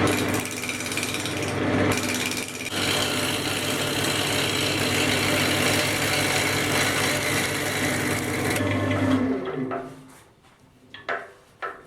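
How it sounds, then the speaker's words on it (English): A wood lathe spins a sycamore crotch blank for a box with a loud, rough, chattering hum as the tool cuts, then winds down near the end, leaving a few quieter knocks. "Get it up to a speed that it's not killing the lathe. And we're just going to slowly take this edge away."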